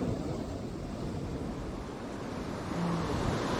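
Steady broadband roar of sea surf breaking into white foam and spray, continuous and fairly close, with a slight swell in loudness near the end and no voices.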